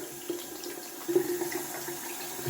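Tap water runs steadily into a sink while a dense-knotted shaving brush is rinsed out, a soft continuous splashing with no talk.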